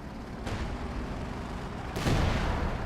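Gunfire in a Company of Heroes-style strategy game, two sharp distant-sounding reports about a second and a half apart over a low battlefield rumble.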